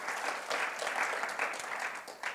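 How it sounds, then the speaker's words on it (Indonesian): A church congregation claps during a Sunday worship service, a brief burst of moderately distant applause with uneven rhythm. "Boleh dong tepuk tangan bagi Tuhan."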